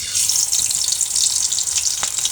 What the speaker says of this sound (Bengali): আমি এখন মাছ ভেজে নেব